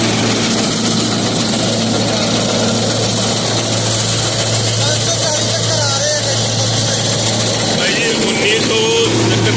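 A New Holland tractor engine runs a straw machine at 1900 rpm, giving a loud, steady, close drone with a constant low hum and a slight shift in tone near the end, while someone talks over it.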